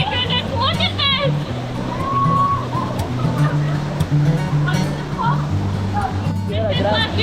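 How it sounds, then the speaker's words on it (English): La Leona waterfall at Rincon de la Vieja Volcano in Costa Rica pours in a steady, loud, broadband roar of falling water close by, with people talking over it throughout. "This is La Dusa Waterfall."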